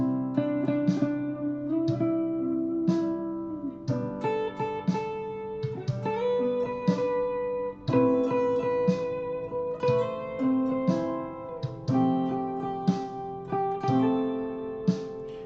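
Clean electric guitar picking chord tones, a steady run of plucked notes with ringing sustain, a held suspended second moving up to settle on the third, played alone.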